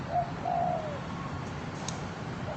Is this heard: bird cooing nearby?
yes